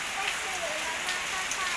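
Morning rain falls over a village in Isan, northeastern Thailand, as a steady, close, even patter of drops on surfaces that carries on throughout.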